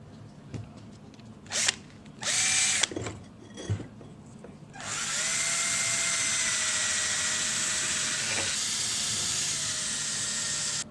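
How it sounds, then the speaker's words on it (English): Cordless drill spinning a small brush to clean a Yamaha F4 outboard water pump part: a few short bursts, then a steady whirring run of several seconds with faint scrubbing, close and moderately loud. "I'm going to use a cordless drill with a little brush on it."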